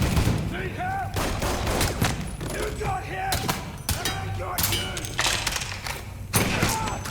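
Turret gunfire in Mafia 3, bursts of heavy rapid shots with thuds and impacts, loud and close, mixed with shouting voices in the scene.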